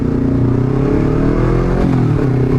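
Honda CBR250RR sport motorcycle engine revving hard at speed, a loud continuous high-pitched whine with rising and shifting harmonics, close and steady throughout with no voices.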